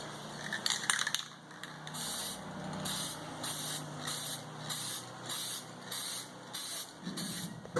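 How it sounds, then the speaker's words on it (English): Rust-Oleum spray paint hisses from a can in short repeated bursts as generator hardware is coated, each spray lasting about half a second with brief pauses between, close and fairly quiet. "we're going to spray paint all the hardware as well"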